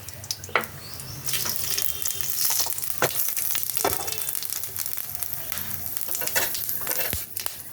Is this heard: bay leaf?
yes